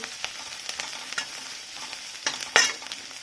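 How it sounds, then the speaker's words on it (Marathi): Onion, garlic and a little turmeric sautéing in a pan for masala bhindi, a steady soft sizzle broken by several scraping stirs of a spoon, one louder scrape near the end. "हळदीचा थोडा कच्चापणा निघून जाण्यासाठी थोडंसं परतून घ्यायचं आहे"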